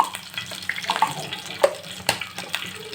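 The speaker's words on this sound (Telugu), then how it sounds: "ఒక ప్యాన్ తీసుకున్నాను అందులో ఆయిల్ అయితే వేసాము కొద్దిగా మినపప్పు" Soft crackling and sizzling of urad dal frying in hot oil in a pan, with scattered pops and faint clinks, close and fairly quiet.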